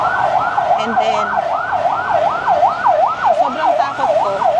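An emergency vehicle siren wails in a steady, rapid rising-and-falling cycle, loud and close, over continuous road traffic rumble heard from an ebike on a morning ride.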